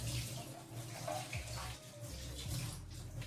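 Plant leaves and roots being washed in a basin of water, gentle sloshing and splashing with trickling water, quiet and close by, no voices.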